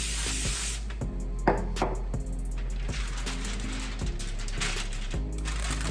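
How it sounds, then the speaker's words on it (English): Aerosol cooking spray hisses in several short bursts onto aluminum foil, close and loud, with crinkling and tapping of foil between sprays. "If you spray the foil really lightly with cooking spray"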